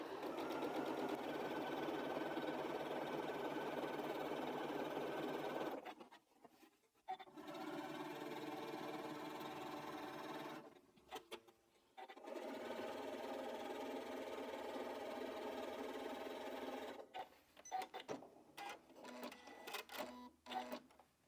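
A sewing machine top stitches a quilted strippy bag in long runs of rapid, even whirring, broken by short pauses and a few stop-start bursts near the end.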